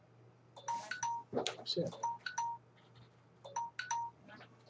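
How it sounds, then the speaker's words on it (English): A phone rings with a repeating electronic ringtone in two bursts of bright chiming tones, fairly close indoors, and someone speaks briefly between them. "It's ringing, but where's the phone?"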